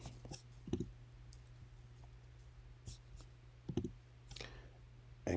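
Quiet computer mouse clicks in a few scattered pairs and singles over a low electrical hum, close and faint, with soft breathy sounds between them.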